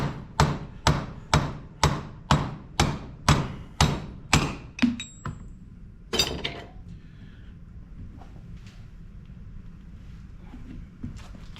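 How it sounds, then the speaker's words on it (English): Rapid metallic hammer blows, about a dozen in a steady rhythm, drive a pry bar against a bearing to knock it out of a 1997 Ford F250, then stop; one more sharp knock follows before quiet. "you can get that down in there and you get that on the edge of that bearing and you can just hammer it right out"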